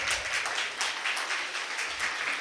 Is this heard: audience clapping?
yes